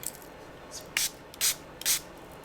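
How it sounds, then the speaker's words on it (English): Three short, crisp hisses from a spray bottle misting a liquid, spaced about half a second apart in a quiet room. Each burst is close and clear. "do 3 little sprays in there"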